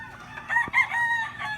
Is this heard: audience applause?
no